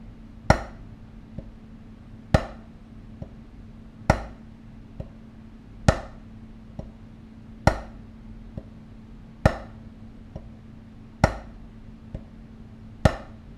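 Evenly spaced drum strokes on a practice pad, alternating a quiet tap with a sharp loud hit, steady and slow, close by with no talk.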